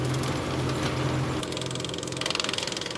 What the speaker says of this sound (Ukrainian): Комунальники підігнали трактор із подрібнювачем та причепом і взялися за прибирання ялинок